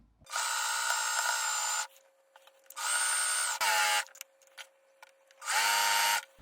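Sewing machine running a straight-stitch seam with a 1/2 inch seam allowance on a summer dress, loud steady whirring bursts of about one to one and a half seconds separated by short pauses, with no voices.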